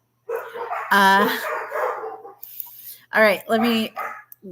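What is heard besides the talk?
poodles barking next door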